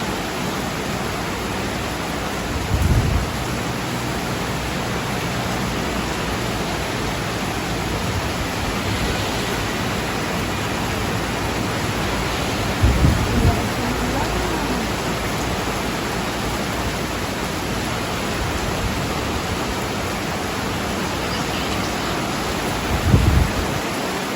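Heavy rain pours down at the PHirst Sight housing site in Calauan, a steady, dense roar with no let-up, broken by a few low, dull rumbles that sound like distant thunder. No one speaks.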